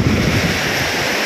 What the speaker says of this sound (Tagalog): Dahil po sa lakas ng hangin nitong bagyong Uwan.